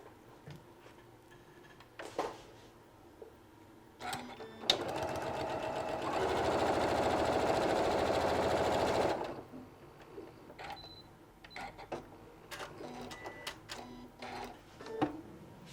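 A sewing machine stitches quilt runner pieces in one steady run of about four seconds, with scattered taps and handling clicks before and after.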